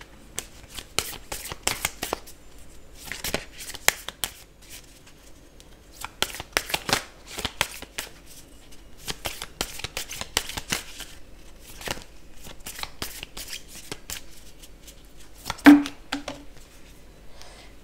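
Oracle cards shuffled by hand in repeated quick riffling bursts separated by brief pauses, close and crisp, with a soft voice briefly under the shuffling.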